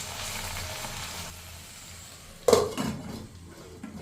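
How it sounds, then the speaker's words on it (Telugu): Okra cooks with salt and chili on low heat in a covered pan, giving a gentle, steady sizzle, with a sharp clatter of metal partway through and quieter frying after. "మూత పెట్టి బెండకాయ ఉడికేంత వరకు మగ్గించుకోవాలి."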